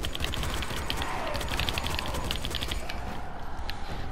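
Sustained, rapid gunfire in the Dying Light game rattles steadily in a continuous stream of sharp, clicking shots over a constant background rumble, with no voices.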